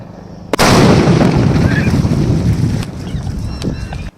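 A 1 kg paper firecracker goes off with one sudden, very loud blast, followed by a long roaring rumble that slowly fades over several seconds outdoors.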